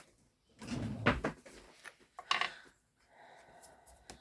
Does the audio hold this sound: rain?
no